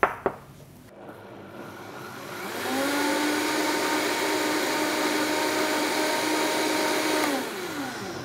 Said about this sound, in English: I'm going to blend this again